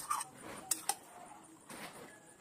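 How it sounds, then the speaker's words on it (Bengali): Metal spoon scraping and clinking against a cooking pot while biryani meat is stirred, a few sharp taps and scrapes over a quiet kitchen background. "ভালো করে উপর নিচ করে দিচ্ছি, মাংসটা নেড়ে দিচ্ছি"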